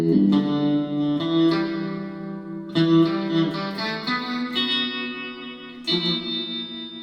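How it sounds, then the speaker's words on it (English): Twangy Danelectro electric guitar chords ring out with a wet, splashy spring reverb tail, each strum decaying slowly in a bright surf-style tone. "Now this is a Dan Electro guitar with a spring reverb."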